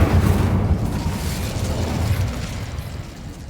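The Incendio fire spell from the Hogwarts Legacy video game bursts out as a loud, roaring whoosh of flame, a dense rumbling blast that slowly fades over a few seconds.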